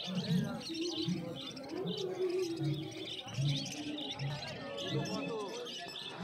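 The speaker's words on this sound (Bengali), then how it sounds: "এখানে এক জোড়া লাভবার্ড রয়েছে" A pair of lovebirds chirps and tweets at an outdoor pet market, the calls fairly faint and blended into busy crowd chatter and other bird sounds, with voices talking throughout.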